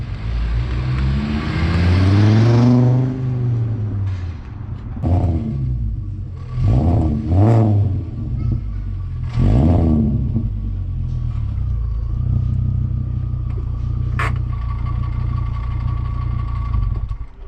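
A car engine, fitted with HRE wheels, idles with a low rumble and is revved several times, each rev rising and falling in pitch before settling back to a steady idle, close by with no talking.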